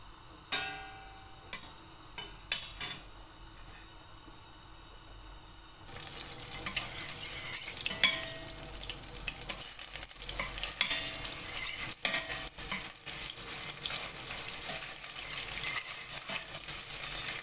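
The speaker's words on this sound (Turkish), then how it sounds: "Tereyağla salçasını kavuracağım." Tomato paste sautéed in butter for a ground-meat meatball dish, sizzling and frying steadily in the pan with stirring scrapes, after a few sharp clinks at the start; close and continuous, no talk.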